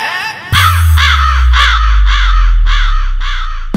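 A crow caws repeatedly in a steady rhythm, about seven loud cries as a sound effect over a thumping bass beat in a hard DJ competition remix, with a sharp hit at the start.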